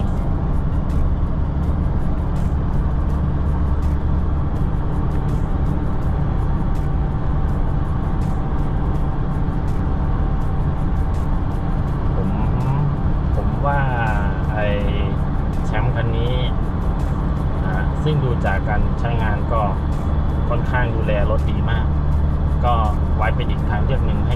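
A 2013 Toyota Vigo Champ pickup on a test drive gives a steady low road and engine rumble throughout, with someone talking over it.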